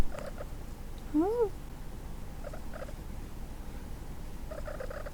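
A cat makes a short, rising-and-falling chirp-like meow once, fairly quiet, over a faint steady background hum, with a few soft rustles afterward.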